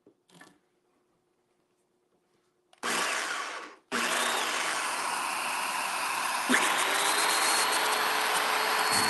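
A Festool loose tenon joiner whirs up briefly, stops, then starts again and cuts into wood with a loud, steady high-pitched whine that continues close up to the end.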